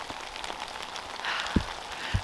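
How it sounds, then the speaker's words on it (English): Light rain falls outdoors in a garden, a soft, steady patter with a few louder drops striking nearby surfaces, faint overall. "You hear the rain?"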